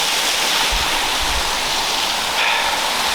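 A waterfall splashes onto slippery rocks with a steady, dense rushing roar heard up close, a few low thumps underneath, and no talking.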